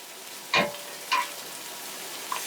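Beef noodles frying in a pan give a soft sizzle, with two distinct scraping stir strokes close up and a faint third one at the end.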